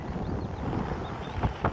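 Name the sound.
wind blowing on a hillside in Derbyshire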